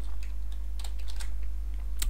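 Typing on a computer keyboard while coding PHP: quick irregular key clicks, close and moderately loud, over a steady low electrical hum, with no voices.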